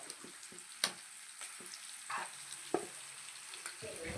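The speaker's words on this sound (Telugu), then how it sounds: "ఆనియన్స్, అల్లం వెల్లుల్లి పేస్ట్ ఇవన్నీ డీప్ ఫ్రై చేసుకోవాలి" Onions and ginger-garlic paste fry in hot oil in a pan for a Telangana fish curry, giving a steady low sizzle broken by occasional sharp clicks and taps of a spoon against the pan.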